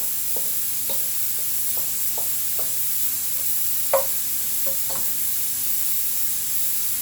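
Chopped onions sizzle steadily in a pan for a pumpkin and black lentil curry, a constant hiss broken by soft spoon scrapes and taps against the pan, with one sharper knock midway and no voices.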